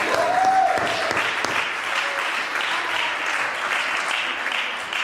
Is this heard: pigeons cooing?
no